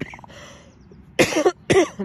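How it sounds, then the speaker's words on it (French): Two sharp, harsh coughs close by, one right after the other, following a moment of near silence. "il y a encore des moments où je tousse un peu"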